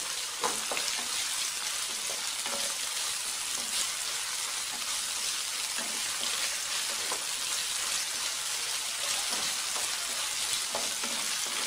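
Curry leaves and ginger paste frying in a pan for a fish curry, a dense continuous sizzle with faint stirring scrapes, close and steady throughout with no talking.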